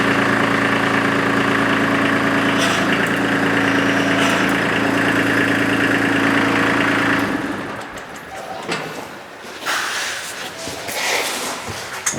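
A tractor engine runs loud and steady at close range, idling with a low throb, while the tractor backs away from a snowblower attachment. The engine then drops away, leaving quieter rustling and handling noises.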